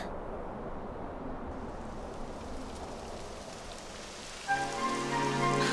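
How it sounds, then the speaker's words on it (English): Steady rain in the video game Dragon Quest XI S patters on a surface throughout, a dense hiss of drops, with a brief tonal swell joining near the end. "It would have to go and start raining, wouldn't it?"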